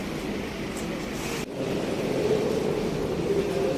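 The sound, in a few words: metro train at Education City station, Qatar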